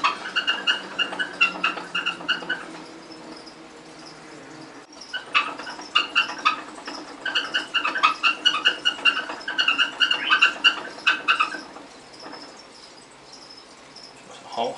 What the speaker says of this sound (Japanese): ハムスターが回し車をカリカリ回してて、ちょっとうるさいですけど